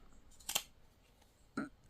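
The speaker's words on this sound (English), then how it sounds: "It's a little bit difficult to cut through all these layers with this pair of scissors" A pair of scissors snips through several stacked layers of quilted fabric, two short, crisp cuts about a second apart, close and fairly quiet.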